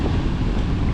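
Strong wind roars steadily across a beach on Naxos Island, a dense, loud rumble buffeting the microphone with the wash of rough surf mixed in and no voices.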